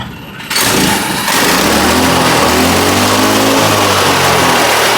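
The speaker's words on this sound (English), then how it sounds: "Our left engine is just cutting out when it's idling." A racing kart's small engine sputters to life after a brief quiet moment, then runs loud and buzzy with a slightly uneven, throbbing idle up close, cutting out at idle.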